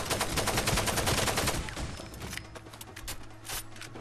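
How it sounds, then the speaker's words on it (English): AK rifle fire in Far Cry 2: a dense burst of rapid automatic shots, loud and close, giving way to sparser scattered gunfire and a final crack. "These AK rounds are coming up short."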